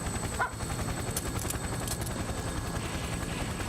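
A helicopter descends toward a rooftop in the fighting game Persona 4 Arena Ultimax, a steady rumbling rotor drone throughout with faint higher clatter laid on top.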